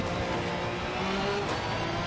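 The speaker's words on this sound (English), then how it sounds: "Oh, listen to that engine scream." A Porsche 992 GT3 race car engine in Assetto Corsa Competizione holds a loud, steady, high-revving drone for a couple of seconds, with no talk over it.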